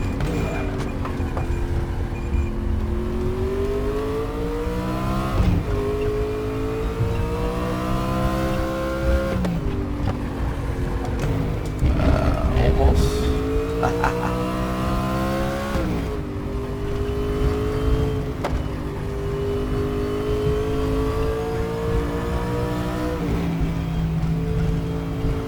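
A race car engine in RaceRoom Racing revs loud and close through repeated gear changes, its whining pitch climbing and dropping with each shift across a continuous lap, with occasional tire noise and no talking.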